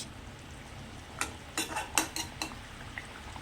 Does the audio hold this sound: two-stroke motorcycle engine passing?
no